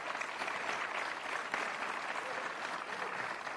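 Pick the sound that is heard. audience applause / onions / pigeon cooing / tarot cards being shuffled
audience applause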